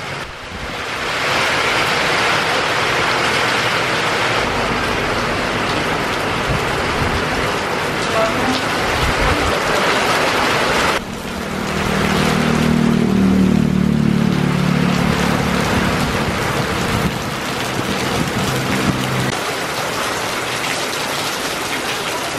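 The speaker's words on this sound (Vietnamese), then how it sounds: "mưa tới rồi cả nhà ha" Rain beginning to fall outdoors at a Vietnamese family home where sausages are drying, a steady broadband hiss that swells louder partway through, joined by a low rumble, with no talk over it.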